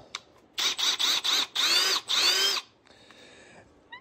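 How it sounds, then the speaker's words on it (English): A handheld power drill runs in five short bursts, then two longer steady whines, drilling out the rivets on a chainsaw bar's sprocket nose, loud and close with no talk. "you're going to go right on top and drill it out"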